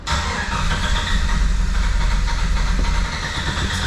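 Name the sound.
1995 Jeep Wrangler 4.0 engine cranking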